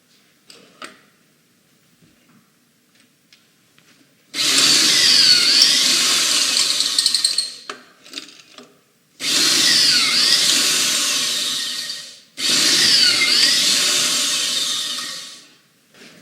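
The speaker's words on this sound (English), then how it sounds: "So we're getting ready to cut the pocket hole screws in the bottom of each of these pieces." A drill bores pocket screw holes into the bottom of wooden pieces for a custom newel post, heard as three loud sustained bursts of high whirring, several seconds each, after a few quiet clicks and taps of setting up.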